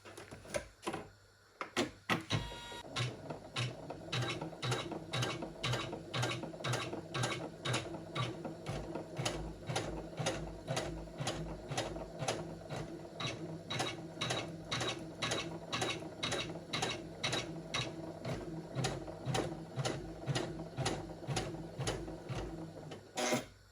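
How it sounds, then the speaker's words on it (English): A Janome 500e embroidery machine sews a basting stitch around a hoop holding toilet paper tissue, with a steady rapid mechanical clatter of needle strokes and a motor hum after a brief start-up, loud and close, with no voices. "I want to press basting stitch and I just want to start it to show me where the design would go on the hoop"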